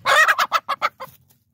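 A broody hen clucks in a quick series of short, throaty notes that taper off and fade, close and clear with no other sounds.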